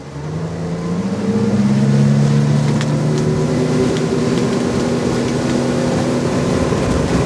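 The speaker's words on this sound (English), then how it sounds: "we're going to give this thing a little juice and see what 200 horsepower and a 25-foot Bentley Tri-Tune will do" A 25-foot Bentley Tri-Toon pontoon boat with a 200 horsepower outboard accelerates hard, its loud, close engine drone climbing steadily in pitch over a constant wash of water and wind, with no voices.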